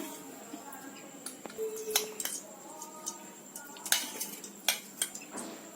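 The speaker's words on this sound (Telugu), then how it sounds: "ఇప్పుడు మనము కళాయి పెట్టుకొని అందులో నూనె వేసుకొని తాలింపు వేసుకుందాం" A metal wok knocks and clatters on a stove, with scattered close clinks and taps of utensils at irregular intervals over a quiet background.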